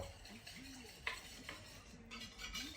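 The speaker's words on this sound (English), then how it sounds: "we whisk the egg yolk in here." Egg yolk being whisked in a bowl for a Caesar salad dressing, a quiet, steady stirring with a few soft clinks and scrapes against the bowl, no talking.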